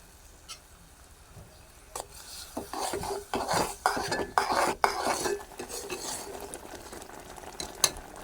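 Grated coconut is stirred into sugar syrup in a pan, with a utensil scraping and clinking against the metal in a busy burst of strokes, then tapering to a few light knocks over a faint sizzle.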